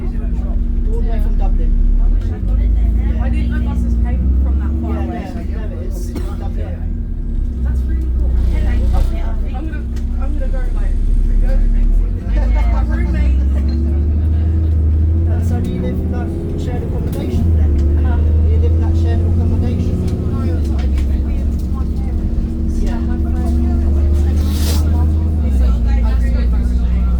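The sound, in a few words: ADL Enviro 500 tri-axle bus from Dublin passing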